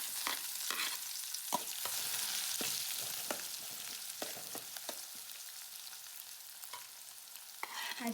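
Onion, green chillies, cumin and mustard seeds fry in a pan with a soft, continuous sizzle punctuated by scattered sharp ticks and pops, faint and close with no voices.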